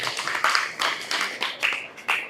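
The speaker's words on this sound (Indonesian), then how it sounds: "Tepuk tangan lagi buat Aulia" A classroom group claps for a student named Aulia in a short series of sharp, uneven bursts, moderately loud and close, with no talk over it.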